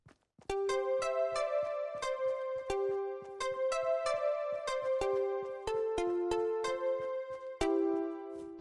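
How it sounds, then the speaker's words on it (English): A bright, plucky square-wave guitar part from Fortnite Music Blocks plays alone in chiptune style, chords struck in a steady rhythm with sustained overlapping notes. "that guitar part kinda sounds like this."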